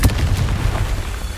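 A Confringo blasting spell explodes in Hogwarts Legacy, a single sharp boom at the very start followed by a fading rumble.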